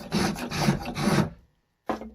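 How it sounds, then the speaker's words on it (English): A rasp is drawn across a wooden golf club face to cut grooves, making three close, rough, rhythmic strokes, a short silence, then the start of a fourth stroke. "If you take the rasp and now go, instead of vertically with it, just kind of slide it across, you can get grooves as well."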